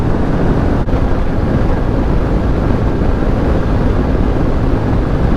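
Honda Super Cub motorcycle on the move, with loud, steady wind roar buffeting the microphone throughout and the small engine largely buried beneath the rushing air.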